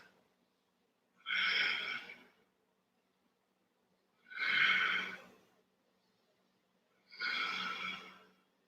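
Three loud, drawn-out audible breaths during an Ashtanga yoga practice, each lasting about a second and separated by quiet pauses of roughly two to three seconds, close to the microphone.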